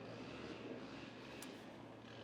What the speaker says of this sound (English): Now there's an airplane flying above.